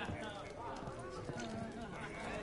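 Horse hooves clip-clop faintly in The Witcher video game, a quiet rhythmic trot beneath louder dialogue between characters.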